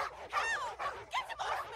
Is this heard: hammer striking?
no